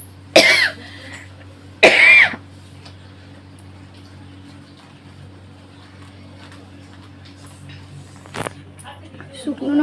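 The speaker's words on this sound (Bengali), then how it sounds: "তাই কাশিটা হচ্ছে" Two sharp, loud coughs close by near the start, caused by smoke from burnt dried chillies in a home kitchen, followed by quiet room noise and a faint click.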